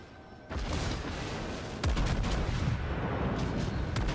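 Naval video game warship, the New York, firing a full broadside, heavy booming cannon blasts that rumble loudly, with a second big salvo crashing in mid-way and sharp reports trailing after.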